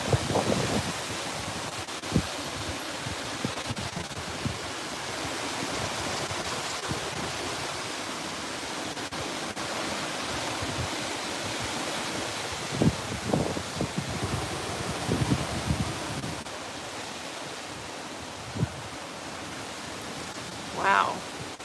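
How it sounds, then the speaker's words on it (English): Strong wind from Tropical Storm Debby roars and buffets the microphone in a sustained rush, with gusts swelling and occasional rustles and thumps; a person briefly exclaims near the end. "here's another good gust"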